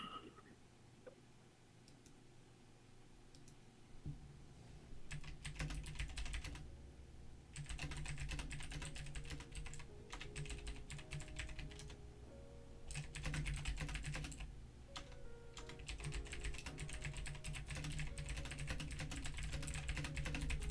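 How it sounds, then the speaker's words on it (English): Computer keyboard typing during a livestream: dense, rapid clacking of keys in bursts with short pauses, fairly close and steady over a faint background hum, no talking. "I hear your keyboard typing away on stream"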